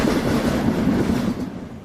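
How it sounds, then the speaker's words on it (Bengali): A cartoon train rumbles and rattles steadily as it gathers speed after leaving Bidhannagar station. The wheels make a continuous low roar, heard alone. "ট্রেনটা বিধাননগর স্টেশন ছাড়িয়ে গতি বাড়ালো।"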